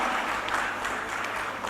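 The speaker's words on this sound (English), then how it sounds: "Please give a round of applause." Steady applause from a conference audience for a panelist at a foreign-policy forum, a dense, even clatter of many hands close by.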